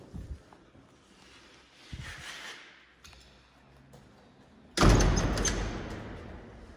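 A door in an old building, likely a Tuchola-area house, bangs loudly once near the end after quieter scuffs and knocks, a sharp broadband slam followed by a short rumbling decay.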